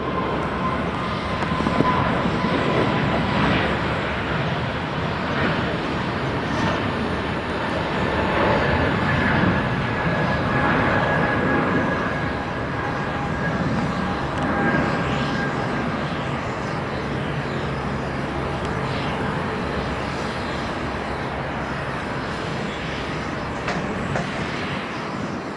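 An Air Baltic airliner passes at Tenerife South Airport with a broad, steady jet roar, a sustained rumble with a faint engine whine that holds for about twenty-five seconds, fairly near and loud with no talk over it.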